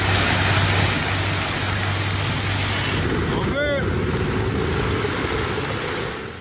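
Heavy rain and floodwater in the United Arab Emirates make a loud, continuous hiss of downpour and rushing water, with a brief chirping tone partway through.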